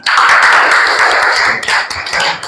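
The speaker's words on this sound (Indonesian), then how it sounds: "Tepuk tangan dong, tepuk tangan." A classroom audience clapping hands together, a loud, close, dense patter of many overlapping claps that tapers slightly toward the end, with no talking.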